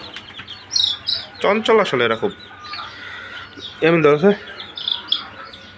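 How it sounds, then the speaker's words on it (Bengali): Six small broiler chicks chirping in repeated bursts of high, thin calls close by, with people talking in between. "এইখানে 6টা মুরগির বাচ্চা আনছি,"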